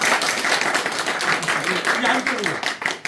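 An audience at a Democratic Party members' meeting in Cheongju applauding warmly to open the session, with dense, continuous clapping that fades near the end and a voice briefly heard over it.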